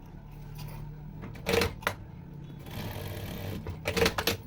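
A sewing machine stitches the shoulder seam of a dress made from an Ilkal saree, running in short close bursts of rapid mechanical whirring between quieter handling sounds.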